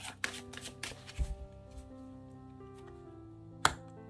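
Tarot cards riffle and slap in a few close, crisp bursts during shuffling, with a sharp snap near the end and quiet gaps between.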